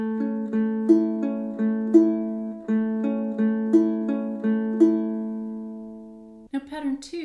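A ukulele plays a quick fingerpicked pattern, clear plucked notes falling in an even, repeating rhythm with ringing sustain, close and alone before a brief shuffle at the end.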